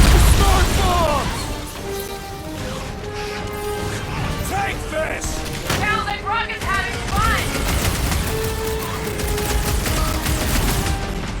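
Video game gunfire in Guardians of the Galaxy, a near-constant stream of loud shots, blasts and crashes with rapid bursts, running under frequent shouting voices throughout.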